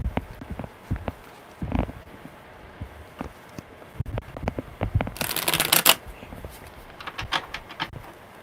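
A deck of tarot cards being shuffled by hand, a close series of crisp riffling and flicking bursts with short pauses, including one longer dense riffle.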